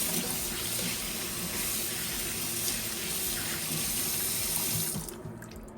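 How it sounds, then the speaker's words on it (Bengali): Warm water running from a tap into a bowl holding frozen hilsa fish pieces, a steady gushing stream heard up close that cuts off near the end. "এই বাটিতে জল দিয়ে রেখে দিচ্ছি তো একটু গরম জল দিয়ে দিচ্ছি"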